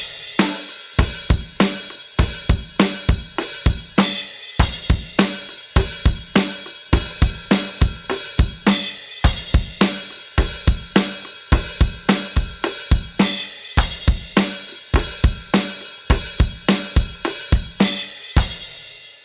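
Full drum kit playing a groove, with a steady loud pattern of punchy kick and snare hits and a wash of bright cymbals running continuously for about nineteen seconds.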